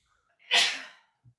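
A single loud, breathy sneeze bursts out close by and fades quickly, followed by a faint soft sound.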